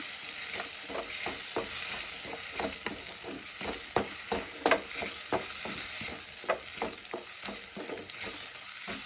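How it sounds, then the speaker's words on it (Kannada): Ground red chutney paste sizzles and crackles in hot oil in a pan, a steady close hiss broken by repeated stirring scrapes and pops, with no voices. "ಚೆನ್ನಾಗಿ ಎಣ್ಣೆಯಲ್ಲಿ ಈ ಥರ ಫ್ರೈ ಮಾಡಬೇಕೀಗ"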